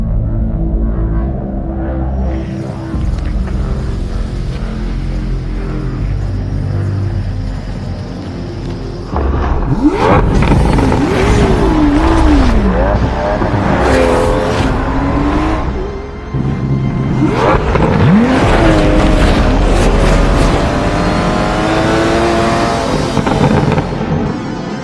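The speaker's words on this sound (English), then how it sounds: "let's take a listen to some proper twin turbo V12 bliss" An Aston Martin Vanquish twin-turbo V12 idles with a deep rumble, then revs hard in two big bursts, roaring and wailing up and down loudly and close, with no voices.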